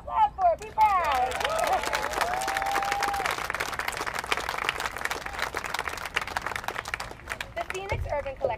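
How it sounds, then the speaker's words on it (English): Audience applause at a community event for a representative of the Phoenix Urban Collective, a sustained burst of clapping with a few whoops, framed by a speaker's voice at the beginning and end. "clap for it, be proud."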